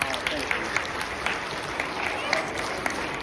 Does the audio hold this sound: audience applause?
yes